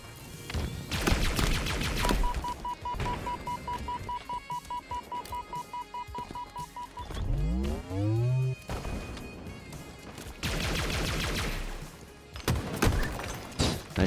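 Green gun fired in a video game, with bursts of rapid shots near the start and end, a long steady beeping tone between them, and sweeping rising sounds in the middle.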